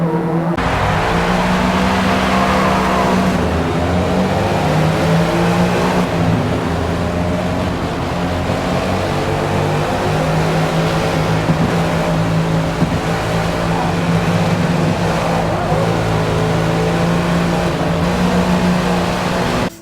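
A race car engine in the video game Forza Motorsport revs hard and roars continuously, pitch climbing and dropping through gear shifts, loud and close with no talking.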